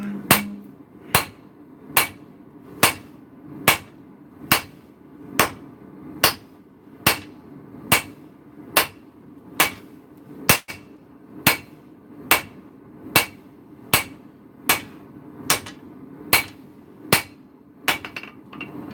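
Steady hammer blows striking forged metal to knock out dings, roughly one sharp metallic strike per second, evenly paced and close, with a low background hum and no talk.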